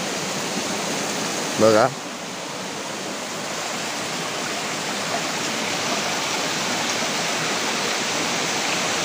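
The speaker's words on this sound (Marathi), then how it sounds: "यो हय धबधबा" A waterfall beside the Siddhaganesh temple at Shirwande Bamniyewadi gives a steady, full rush of falling water. It runs loud and unbroken from start to finish, with a brief voice early on.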